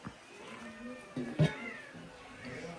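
A pet cat gives a short meow in a home kitchen where seafood is being prepared, fairly faint against steady background hiss and household noise.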